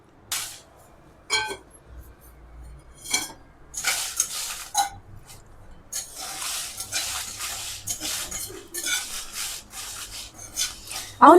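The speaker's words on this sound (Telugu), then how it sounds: "ఇప్పుడు ముందు మిరపకాయలు వేయించేసుకుందాం." Red chillies are fried in a home-kitchen pan, heard as repeated scraping and stirring strokes of a utensil against the metal in irregular bursts, close and moderately loud, with no talking.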